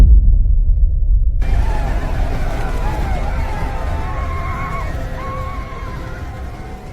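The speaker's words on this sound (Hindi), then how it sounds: "सुल्तान महमद ब्लैक आर्मर पहने, घोड़े पे सवार, और आंखों में एक ही ललकार, हमला।" A horse whinnies in a battle scene with an armored sultan riding into the Ottoman assault on Constantinople. The neigh rises loudly after a second of quiet, wavering over a dense rumbling bed of crowd noise and battle ambience that runs throughout.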